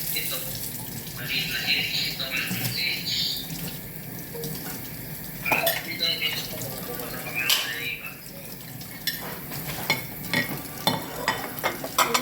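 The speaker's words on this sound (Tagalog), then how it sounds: "Hugas ng plato para sa lulutuin niya." Plates washed with a sponge at a kitchen sink in an Abu Dhabi residence, with running tap water, rubbing and scrubbing, and scattered clinks of dishes. A person talks now and then over the continuous washing noise.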